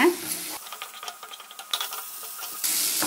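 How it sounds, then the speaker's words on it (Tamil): Onion paste frying in oil for egg kurma, a soft hissing sizzle with light stirring scrapes, close, with brief louder bursts of steam at the start and end. "இப்போ இது நல்லா ஃப்ரை ஆகி அந்த எண்ணெய் பிரிஞ்சு வரணும், அந்த அளவுக்கு ஃப்ரை பண்ணிக்கலாங்க."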